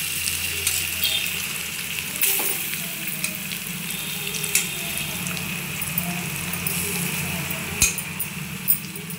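Korra matta fish pieces sizzle steadily in hot oil, a continuous bright crackle with a few sharper pops and faint clinks, no talking.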